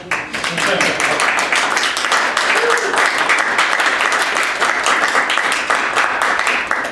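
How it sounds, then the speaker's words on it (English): Sustained audience clapping in thanks for Perry at a gathering, dense and even from start to finish, with a voice briefly heard through it. "I'm just going to clap"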